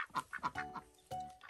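Ducks near the seashore give a quick series of nasal quacks, close and fairly clear, about half a dozen calls in a second and a half.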